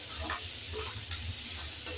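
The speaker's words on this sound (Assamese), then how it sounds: "এয়া অকণমান এনেকৈ ভাজি ল'লোঁ" Dal sizzles softly in a pan while a spoon stirs it, a faint, steady frying hiss broken by light scraping, made for an Assamese taro-leaf and fish dish.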